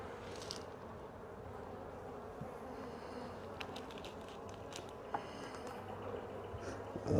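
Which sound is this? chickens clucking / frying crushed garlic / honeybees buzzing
honeybees buzzing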